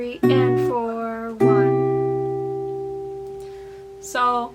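Guitar chords from a song strummed in time: three distinct strums, each left to ring and slowly decay, close and clear with no voice over them.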